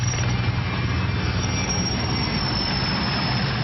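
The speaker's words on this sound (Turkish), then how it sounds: "yangın söndürme helikopteri 50 metreye kadar alçalabiliyor" A firefighting helicopter drones steadily overhead in Istanbul, its rotor and engine noise constant and fairly loud throughout, with no voices.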